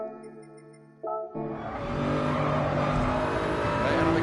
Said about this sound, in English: I'm accelerating as I come into the inside wall.